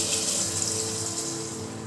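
Tap water runs steadily, rinsing a bowl of ground spice paste in a home kitchen while a paneer curry is cooked, a close, continuous gushing splash with no talk.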